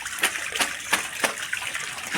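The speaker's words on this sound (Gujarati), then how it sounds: "વરસાદના પાણીમાં કપડાં ધોવા બેસી ગયા ભાભી." Clothes are washed by hand in collected rainwater, giving soft, close splashes roughly every third of a second, with a faint watery trickle between them.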